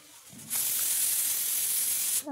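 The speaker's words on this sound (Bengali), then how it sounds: "এই যে সিটি মেরে নিচ্ছি, 5 থেকে 6টা সিটি মেরেছি।" Pressure cooker whistle loudly venting steam while boiling chalta with salt and turmeric, a steady sharp hiss that bursts on suddenly and holds for nearly two seconds before stopping.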